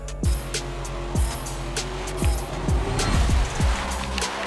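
A 2000-horsepower Plymouth GTX drift build roars in Forza Motorsport 7, its engine revving hard with repeated sharp throttle blips and falling whines. The sound is loud and continuous, with no voice over it.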